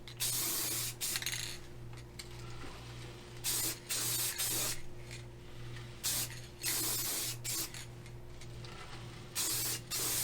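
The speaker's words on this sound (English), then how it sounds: "I'm just using the Rust-Oleum clear. It's like a clear lacquer in the can." Rust-Oleum clear lacquer hisses from an aerosol can onto the edge of a carved maple door sign in repeated short sprays of about half a second to a second each, separated by brief pauses, close and fairly quiet.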